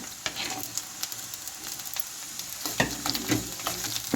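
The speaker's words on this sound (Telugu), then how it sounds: "ఆనియన్ అనేది కాస్త వేగింది ఈ టైంలోనే మనం దీంట్లో పచ్చిమిర్చి అనేది యాడ్ చేసుకుందాము" Chopped onions and green chilies fry in a pan with a soft, crackling sizzle, punctuated by a few light stirring clicks and scrapes, fairly quiet and close, with no voices.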